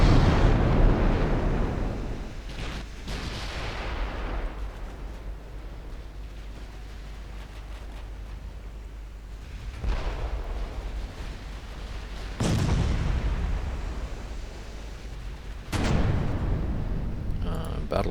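Heavy naval artillery salvos from battlecruisers in Ultimate Admiral Dreadnoughts boom out at intervals, each deep blast decaying into a long rumbling roar, four main bursts across a steady low noise bed.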